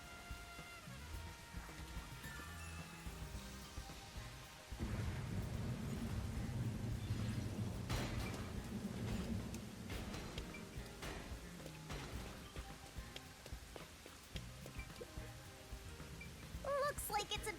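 Steady rain and rumbling thunder in a video game, a constant wash of rainfall with low thunder swelling partway through, faint and continuous, with no talking over it.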